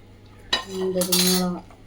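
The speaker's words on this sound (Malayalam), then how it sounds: "നല്ലോണം ഇളക്കി യോജിപ്പിക്കും." A metal spoon clinks and scrapes in a pan while peanuts are stirred into melted butter and sugar for peanut candy, a sharp knock followed by a short ringing scrape, close and alone.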